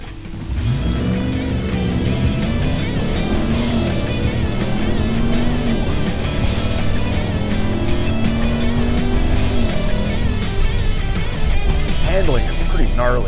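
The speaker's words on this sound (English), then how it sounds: "the takeoff of this vehicle. We're gonna do it from a stop, right here." A 2021 RAM TRX pickup pulls away from a stop, its engine roaring loud and close as the revs climb through the gears with repeated rising sweeps.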